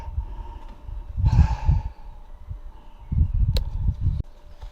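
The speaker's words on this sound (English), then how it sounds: "I need to blow my nose" Two breathy bursts of nose blowing, close and fairly loud, separated by a short pause, with low rustling between them.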